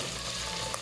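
Onions and aromatics sauté in a hot pan, making a dense, continuous sizzle that is close and even over a brief moment, with no talking.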